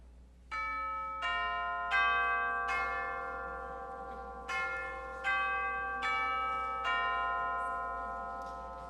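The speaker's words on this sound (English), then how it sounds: "Next up, we have the chimes." Orchestral chimes, or tubular bells, are struck about nine times in a slow sequence of pitches, each metallic tone ringing out and decaying while the next strikes, clear and unaccompanied.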